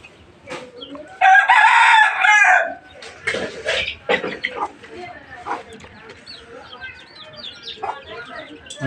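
A backyard rooster crows loudly and close by for about a second and a half, while hens cluck intermittently around it and a person talks over the scattered farmyard clucking.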